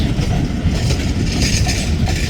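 A freight train with four locomotives hauling pulpwood cars rolls past steadily and loudly nearby, its constant rumble and wheel noise running through the whole short stretch.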